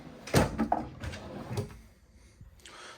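Drawers in the kitchen of a 2022 Sierra 3770FL luxury front-living fifth-wheel RV sliding and knocking shut, a few close thuds and rattles in the first half before the sound trails off into quiet room tone.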